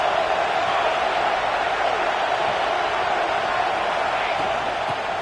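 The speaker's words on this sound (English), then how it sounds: "Big 3rd down as the crowd gets behind this defense." A College Football 26 stadium crowd roars in a steady, dense wash of cheering that holds at an even level for several seconds.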